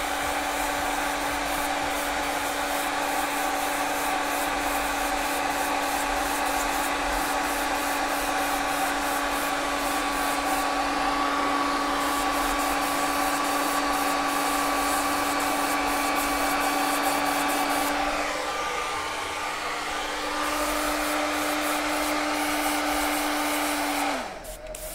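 A hair dryer blows steadily at close range, drying freshly airbrushed fluorescent yellow paint on a T-shirt. It holds a constant whine and roar that shifts slightly near the end and then cuts off.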